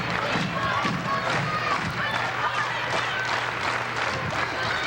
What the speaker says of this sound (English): Crowd clapping in rhythm,